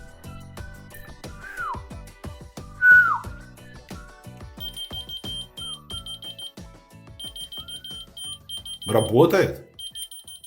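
Whistle-activated keychain finder from China beeping repeatedly in short electronic bursts after a person whistles, nearby, with Russian speech and a loud rustle.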